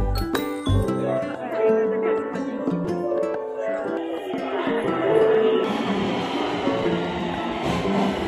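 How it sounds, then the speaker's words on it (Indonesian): A Taipei MRT metro train pulls into a busy station platform, its steady rumble and tonal hum sustained under crowd chatter and nearby voices. "nunggu MRT-nya datang"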